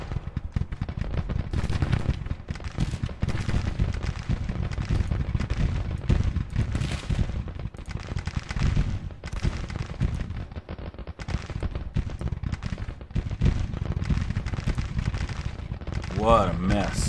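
Civil War artillery booms and crackling rifle volleys from Grand Tactician: The Civil War fire nonstop, a dense, loud barrage of overlapping shots with heavy cannon thumps throughout.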